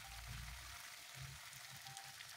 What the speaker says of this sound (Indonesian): nah ini kita goreng bolak-balik